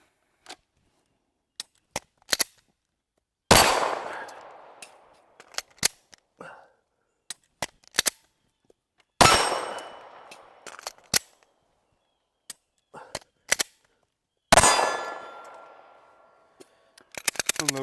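Pistol shots during malfunction-clearing drills, three sharp loud cracks spaced several seconds apart, with clicks and metallic handling sounds of the slide and magazine in between.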